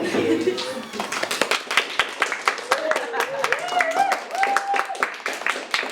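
Applause at the close of an event, with brisk, uneven hand claps from a small group, fairly close and loud, mixed with voices and cheering.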